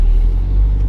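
An Audi car with a newly replaced automatic gearbox accelerates, a steady deep engine rumble filling the short stretch at close range with no voices.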